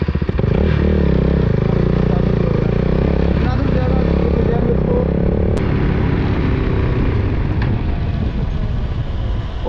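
A KTM RC 390 BS6 motorcycle fitted with an Akrapovic full-system exhaust is cranked on its self-starter, giving a loud, continuous mechanical whirring and clatter at close range with no clean catch, while a voice talks over it.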